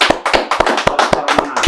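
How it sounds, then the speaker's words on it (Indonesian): A small group claps in a brisk, loosely synchronized rhythm, about seven close, sharp bursts of hand claps in quick succession, fairly loud and near, with no talking. "Tepuk tangan dong guys."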